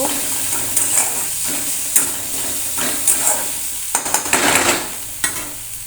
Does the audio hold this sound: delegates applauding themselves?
no